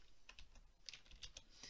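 Quiet, fast keystrokes on a computer keyboard, a quick irregular run of about a dozen clicks as a formula is entered into an Excel spreadsheet.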